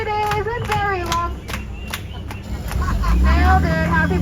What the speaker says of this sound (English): I need everyone to clap, clap, clap, clap, clap, clap, clap, clap